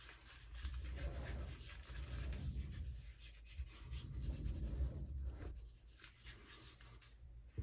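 A shaving brush works shaving soap into a lather on the face in soft, continuous, close rubbing and swishing, fairly quiet and steady with small pauses.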